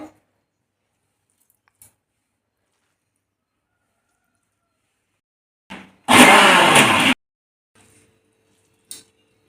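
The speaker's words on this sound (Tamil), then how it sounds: "நம்ம முதல் மிளகாயை மிக்சி ஜாரில் சேர்த்து அரைச்சிட்டு அப்புறம் சாப்பாடு போட்டுக்கலாம்" A mixer grinder grinds dried chillies with leftover rice in a jar. A single loud, harsh whirring burst lasts about a second amid near silence, with a few faint clicks before and after.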